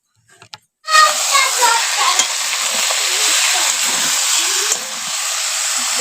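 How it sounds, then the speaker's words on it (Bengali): Meat being braised and stirred in a pan over a village clay stove, a loud steady sizzle and hiss with scraping stirs, after a brief faint sound at the start. "এখন মাংসটা কষানো শুরু করে দিয়েছি"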